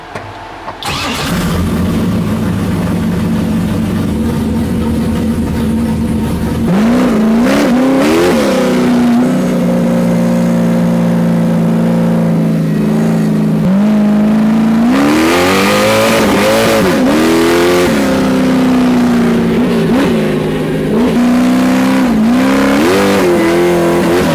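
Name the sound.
Ultra 4 off-road race truck engine running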